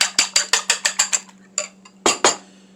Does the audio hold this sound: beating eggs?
yes